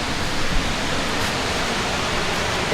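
A small cascade waterfall in Norway gives a steady, close, broadband rush of falling water that holds even and unbroken throughout, with no voices.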